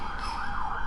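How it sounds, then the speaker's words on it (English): An emergency siren wailing outside a window, a steady, fairly loud wavering tone heard alone for under a second. "There's like sirens."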